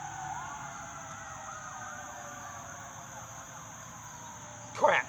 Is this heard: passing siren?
yes